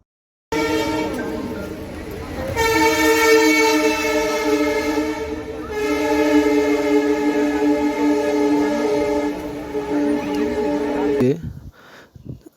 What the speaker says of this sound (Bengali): ট্রেনটা আবার দাঁড়িয়েছে একটা স্টেশনে।